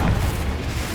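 A Confringo fire spell exploding in the video game Hogwarts Legacy: a single deep, rumbling boom that fills about a second, loud and low with no voice over it.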